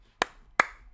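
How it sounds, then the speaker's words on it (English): Three sharp, separate claps ring out close and loud, each a crisp snap with a short decay, spaced unevenly across a second of otherwise quiet air. "what is the sound of one hand clapping?"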